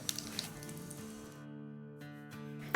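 Whole cumin seeds sizzling in hot oil with asafoetida for a Punjabi pakora kadhi, a steady close crackle and hiss with a few sharper pops, fading quieter midway then resuming.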